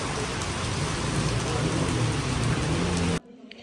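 Heavy rain pours down in a steady, loud, even hiss with a dense patter of drops, then cuts off abruptly into near silence.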